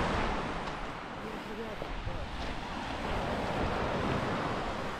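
Steady roar of Black Sea surf rolling in at Vardane at summer's end, broad and continuous, with wind buffeting the microphone throughout.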